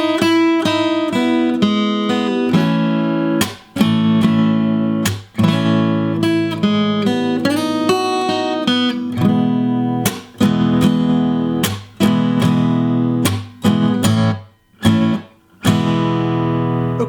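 A solo guitar in standard tuning plays the intro of a song, with clearly picked notes and chords moving along at a moderate pace with short pauses.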